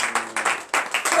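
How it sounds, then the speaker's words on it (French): A congregation at morning prayer claps in loud, close bursts, several rhythmic waves of hand claps in quick succession with short gaps between them. "Donnez l'acclamation à l'Éternel."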